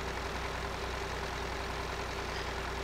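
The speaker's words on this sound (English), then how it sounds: "Small tractor, very nimble." A small tractor engine running in Farming Simulator 2013: a steady, low idling drone with a constant hum, moderately quiet and unchanging, with no talk.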